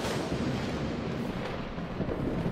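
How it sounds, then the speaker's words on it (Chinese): A thunder-like explosion effect for a lightning-charged punch in a fantasy martial-arts story, a dense, booming rumble that rolls on steadily without a clear single crack. "一道雷霆炸响"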